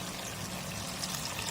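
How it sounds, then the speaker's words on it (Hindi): Steady water pouring into a pan of frying spices, a continuous soft splashing hiss lasting the whole moment, close and fairly quiet with no voices. "थोड़ा सा पानी डालूंगी, 2 टेबल स्पून, ताकि मसाले जले नहीं"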